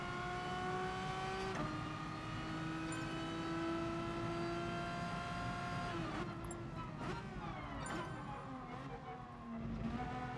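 Race car engine in GT Sport, a sustained high-pitched whine climbing through the gears with sharp shifts, other cars audible nearby, steady and fairly loud throughout.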